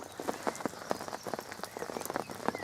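Rain falls on Horseshoe Lake, a gravel pit, during a morning of carp fishing, heard as irregular close patters and taps on a nearby surface over a soft wet hiss, without talk.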